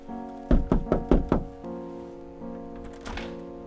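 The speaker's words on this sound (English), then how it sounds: "I'm not knocking on that door until they're right on my 6" Five firm knocks on a door come in a quick, even burst, close and solid, with a low hum continuing after them and a faint scrape near the end.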